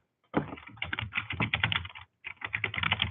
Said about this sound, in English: Let's type in our project name, project description.